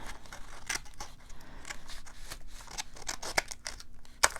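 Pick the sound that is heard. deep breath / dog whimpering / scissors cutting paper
scissors cutting paper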